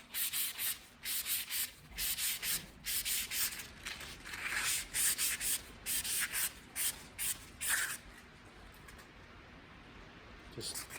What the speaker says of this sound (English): Grab a chunk of sandpaper and just give this a quick